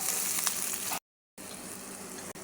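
White and red onion sautéing in hot cooking oil, a bright steady sizzle that cuts out briefly for about a third of a second before resuming, close and alone with no talk.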